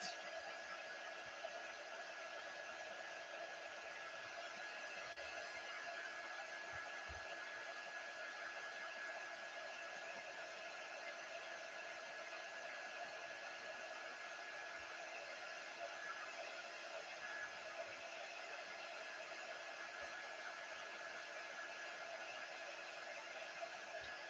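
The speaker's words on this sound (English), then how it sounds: "I am drying this because I know I'm going to smudge it." A hair dryer blows steadily to dry craft paint on rustic Christmas embroidery hoop decor, a constant close whooshing roar that runs unbroken throughout with no pauses.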